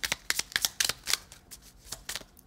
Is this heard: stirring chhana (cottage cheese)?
no